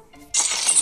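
After a short quiet moment, a sudden bright crash of breaking glass in a video game bursts out, with shards tinkling and scattering to the end.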